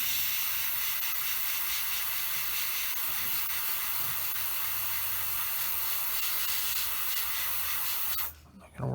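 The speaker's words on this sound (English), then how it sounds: "So now let's spray" An airbrush sprays paint onto a 1/48 scale Eduard Bf 109E-3 model kit, giving a steady, close, continuous hiss that runs without a break for about eight seconds before cutting off.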